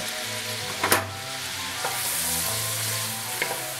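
Vegetables and garlic sizzle loudly in a hot pan under a steady hiss, with a few sharp scrapes and taps from a stirring utensil, up close and with no voices.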